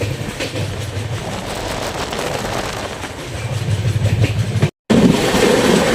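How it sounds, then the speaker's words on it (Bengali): Heard from onboard, the Brahmaputra Mail Express rolls along through village countryside with a steady rumble and clickety-clack of wheels, growing louder toward the end, with a brief dropout before the noise resumes. "আমাদের গ্রাম দিয়ে ট্রেন দিয়ে যাচ্ছি আমরা"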